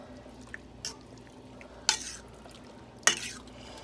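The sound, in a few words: stirring a pot of homemade chili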